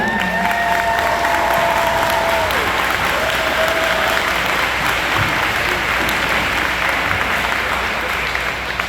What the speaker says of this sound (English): let me give a big round of applause to our principal of Edinburg High School